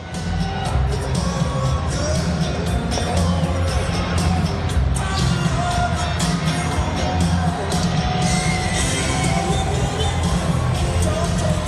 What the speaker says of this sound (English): this crowd is pretty rowdy here in Harrisburg. So it should be a very loud environment